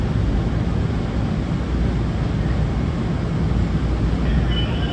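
A DC Metro Green Line train rides along the tracks, a loud, steady, low rumble of wheels and motors heard from inside the car, with no pauses.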